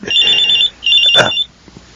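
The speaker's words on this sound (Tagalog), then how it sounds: "Nagre-ring ang cellphone ko." A cellphone ringtone sounds loud and close in two bright electronic bursts, separated by a short pause.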